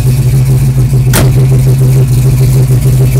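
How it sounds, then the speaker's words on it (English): Cold 1967 Chevelle SS 396 engine running loud and steady at close range, with a low, constant drone and one sharp brief burst as the throttle is flipped. "I'm gonna try and flip the throttle here, not too much because she's cold"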